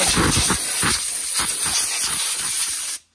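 Compressed air from an air compressor blasts dirt off a sprint car, a loud, harsh hiss pulsing in repeated bursts before stopping abruptly.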